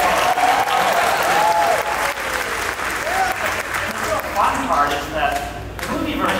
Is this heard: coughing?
no